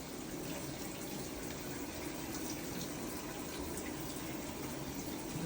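A hospital shower runs steadily on the first day after surgery, a constant soft hiss of falling water with no breaks and no voices.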